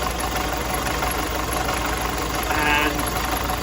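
A Nissan X-Trail with starting problems idles roughly, a loud, close, steady engine drone with an uneven mechanical texture throughout.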